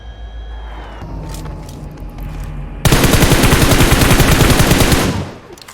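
Automatic gunfire in the mobile battle-royale game PUBG Mobile bursts out as a loud, sustained, rapid volley lasting a couple of seconds. Before it comes a quieter stretch of game ambience and engine hum, with no talking.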